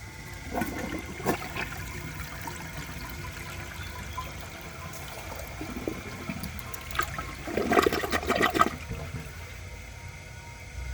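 A 1973 Eljer Emblem toilet flushes in one long continuous rush of water, with gurgling surges near the start and a louder swirl toward the end, heard up close with no talking.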